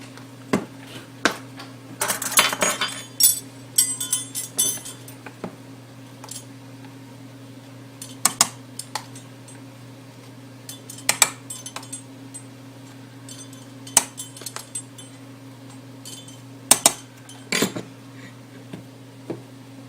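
Small metal measuring spoons clink against a bowl and containers as spices and baking soda go in for apple bread, scattered light taps and clatters spread over a quiet background hum.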